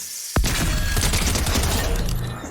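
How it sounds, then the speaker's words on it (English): A sharp blast from Kit's charge shotgun in Fortnite opens the clip, followed by a dense, rattling burst of mechanical clatter and impact noise that fades slightly toward the end. "Kit's charge shotgun pump swap with a headshot."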